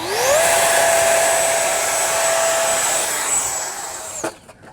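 An HK Flycat RC plane's electric motor spins up to almost full throttle, a loud, close, steady high whine that rises quickly, holds, then cuts out abruptly with a clatter at the end.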